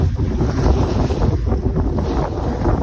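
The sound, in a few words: wind blowing by the sea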